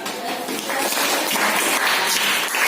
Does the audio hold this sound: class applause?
yes